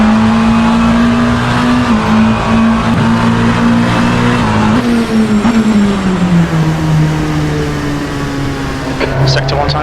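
Simulated LMP2 prototype race car engine in the Assetto Corsa racing game, a loud steady drone that holds one pitch, dips through a shift around the middle and settles lower, with faint tyre noise near the end.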